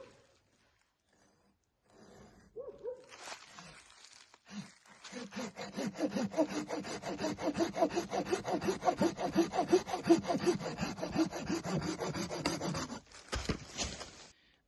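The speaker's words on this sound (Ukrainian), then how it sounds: "Бачите, вона перерізала доволі таки швидко." A budget Chinese hand saw with rubberized grip inserts cuts through wood in steady, rapid rasping back-and-forth strokes, close and clear after a few quiet handling sounds.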